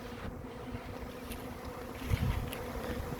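Bee swarm moving into a nest box trap outdoors, a dense continuous buzzing hum of many insects, steady and close.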